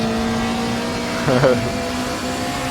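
A turbocharged Group 5 race car in the Raceroom sim at Bathurst drones steadily at high revs, with a short rising surge and warble midway, sounding fairly close throughout.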